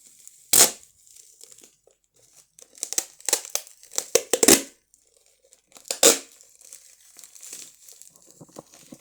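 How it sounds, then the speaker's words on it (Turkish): Adhesive tape ripped off a plastic bag while making a homemade squishy, heard as sharp tearing and crinkling bursts, close and loud, with quieter plastic rustles between the pulls. "bantımızı çıkartıyoruz"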